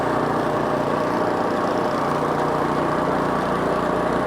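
A Craftsman snowblower engine runs steadily in first gear on a driveway, a loud, continuous close-up drone with a constant low rumble and no speech.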